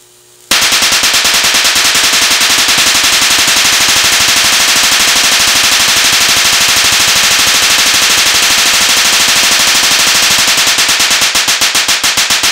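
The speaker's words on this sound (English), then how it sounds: "I now put an external capacitor across the spark gap, and we'll fire it up and see how it looks." A high voltage quadrupler spark gap fires with an external capacitor across it, a loud continuous rapid crackling burst of snapping discharges that starts abruptly and keeps a steady machine-gun-like rhythm to the end.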